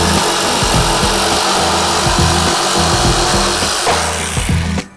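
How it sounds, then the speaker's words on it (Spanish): A jigsaw cuts a circular opening in a wooden tabletop while assembling a skirted table, with a loud, close, steady buzzing and rapid rhythmic blade strokes that wind down at the end. "Para poder cortar metemos la caladora y ya."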